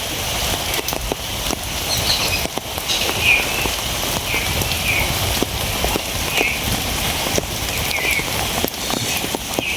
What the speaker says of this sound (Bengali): আজ থেকে বোধহয় বৃষ্টি শুরু হইলো